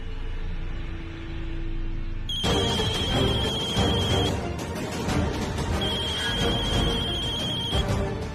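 A mobile phone ringtone starts suddenly and plays in two loud repeating bursts with a brief gap, filling the scene alone.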